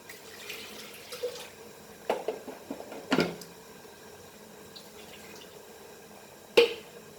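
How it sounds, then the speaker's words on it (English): Water splashes and trickles into a cooking pot of Kolhapuri mutton in short, uneven spurts, fairly quiet, with a few sharper splashes along the way. "So I will add a little bit more of water to this."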